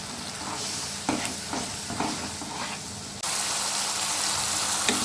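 A dish cooking down in a pan with a little water and salt, a continuous close hiss and sizzle broken by rhythmic spatula scrapes, then a sudden louder steamy surge partway through.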